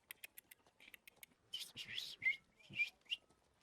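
A person imitates a bird-like call with their voice, starting with a quick series of dry clicks and moving into several short, thin whistles, quiet and close with small pauses between bursts.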